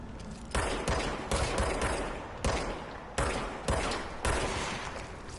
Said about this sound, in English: Oh, am I being shot at?